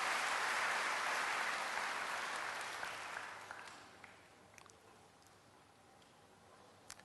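Church congregation applauding during a sermon, loud sustained clapping that fades over a few seconds into a quieter room with scattered claps.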